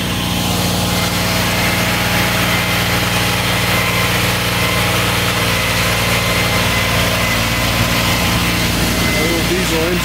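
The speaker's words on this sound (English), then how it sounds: "Engine in there, all self-contained." A self-contained pump truck engine runs steadily up close at a house build, a loud constant droning roar with an even, unchanging hum.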